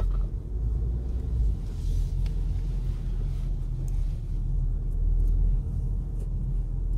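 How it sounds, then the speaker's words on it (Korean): A 2021 Hyundai Tucson with a 1.6 turbo gasoline engine and 4WD is driven at night, a steady low engine and road rumble heard from inside the cabin with no voices. "오늘의 목적지까지 야간 주행을 끝내도록 하겠습니다"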